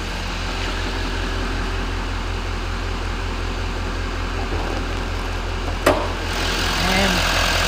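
Steady low idle of a Chevrolet Silverado's 6.6 liter engine, a constant rumble with a faint hum on top, a brief click near the end.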